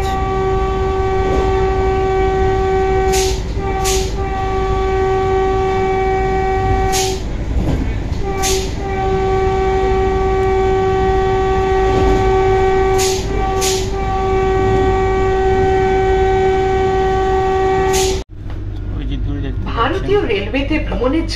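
A Vande Bharat express runs at about 110 km/h, heard from inside as a loud, constant roar. Sustained horn-like tones repeatedly break off and resume, and the noise cuts out abruptly near the end.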